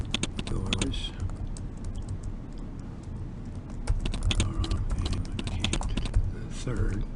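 Fast keystrokes on a computer keyboard as text is typed into a document, crisp clicking in quick bursts with short pauses, while a person talks alongside the typing.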